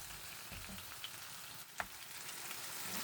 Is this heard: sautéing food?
yes